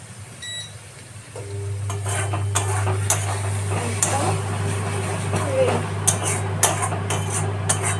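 A lid is lifted off a pot of mutton curry with potato and papaya, giving a metallic clank. Steady sizzling and a low hum follow, with light utensil clinks and a voice talking.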